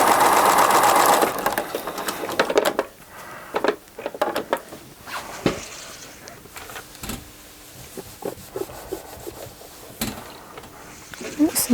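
Home sewing machine fitted with a size 70 needle at a 2.5 stitch length, sewing scant quarter-inch seams on small pieces of fabric for an improv pieced basket. A loud, steady whir comes first, then quieter mechanical clicks and handling noises follow.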